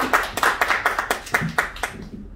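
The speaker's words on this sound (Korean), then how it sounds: "박수 한번 치주시죠" Scattered hand clapping from a small audience at a business seminar in Korea, a string of about a dozen distinct, fairly close claps in a loose rhythm that thins out after two seconds.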